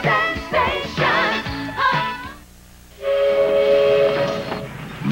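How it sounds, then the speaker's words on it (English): Venice Simplon Orient Express luxury train, with loud rolling rail noise and sustained horn-like tonal blasts, the sound swelling, dipping briefly and rising again. "The Venice Simplon Orient Express."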